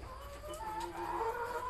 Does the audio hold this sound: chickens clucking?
yes